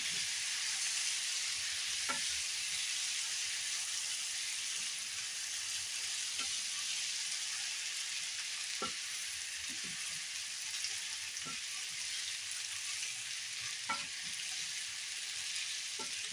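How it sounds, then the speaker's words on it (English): Cooked spaghetti tossed with seasonings in a frying pan for a budget hot dog spaghetti, giving a steady soft sizzle with occasional scraping stir clicks spaced a few seconds apart, close and unbroken, with no talking. "And here I'm mixing the spaghetti here first to kind of pick up some of the flavors from the seasonings I put in here"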